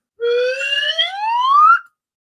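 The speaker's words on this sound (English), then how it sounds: "What do you think about the little slide whistle there at the end, Jim?" A slide whistle glides steadily upward in pitch for nearly two seconds, one continuous rising tone, loud and close, alone with no talk.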